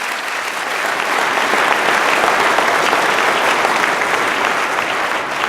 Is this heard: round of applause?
yes